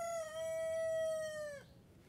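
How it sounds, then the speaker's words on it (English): A rooster crows once close by, a long, loud drawn-out call that ends abruptly after about a second and a half, with no talking. "You guys can probably hear my rooster right now."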